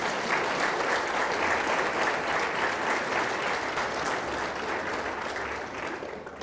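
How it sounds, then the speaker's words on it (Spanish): A church congregation applauds in worship during a sermon, producing a thick, continuous wash of many hands clapping at steady volume that eases slightly toward the end. "Aplauda al Señor."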